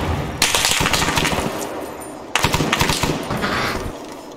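Gunfire from a weapon set to burst mode in the video game Arma: two dense, rapid bursts of shots, loud and close, separated by a short gap.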